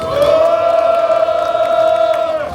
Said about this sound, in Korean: 큰 함성 부탁드립니다, 동지 여러분.